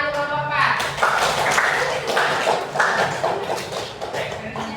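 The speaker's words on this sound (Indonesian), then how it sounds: "Baik, beri tepuk tangan kelompok 4." A classroom group applauds another discussion group, a steady burst of clapping from many hands, fairly close and continuous, with voices mixed in underneath.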